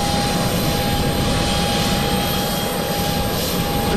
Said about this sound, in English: Sounds like the auxiliary power unit going on this aircraft.